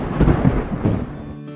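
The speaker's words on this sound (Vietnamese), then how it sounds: "Chiều giông bão." A thunderstorm with rain, a loud rumble of thunder rolling over steady rainfall, close and heavy, with no voices.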